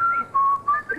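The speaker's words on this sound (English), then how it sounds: "I started to whistle, you know, that little tune he likes" A person whistles a short little tune up close: a few wavering, sliding notes in quick succession, with no talking.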